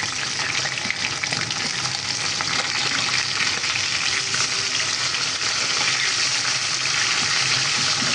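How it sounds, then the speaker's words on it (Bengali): Poa fish sizzle steadily in hot oil in a pan, a continuous close crackling hiss that holds even and loud throughout with no speech. "পোয়া মাছগুলোকে হালকা ভেজে নিচ্ছি।"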